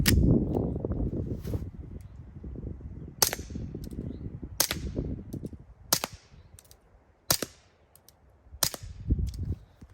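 Sharp Walther PPK/S pistol shots crack one after another, about ten in all at uneven intervals, each ringing out briefly against a quiet background.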